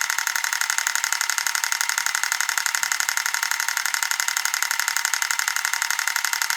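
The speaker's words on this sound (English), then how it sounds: "you can hear the clackety clack. It's even moving the function on these T2 guns" Recoil solenoids in Terminator 2 arcade light guns clack in a fast, steady rapid-fire stream, loud and close, with no talk over it.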